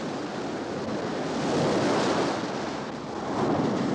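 Ocean waves wash in a continuous broadband roar that swells and eases in slow surges, loud and close with wind-like hiss and no voices.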